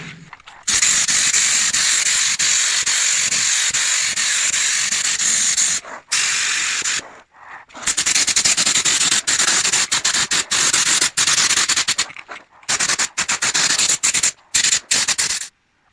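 Spray gun laying high build primer on a Vauxhall Nova SR, a loud, steady hissing spray in long bursts broken by short pauses, close up, with no talk.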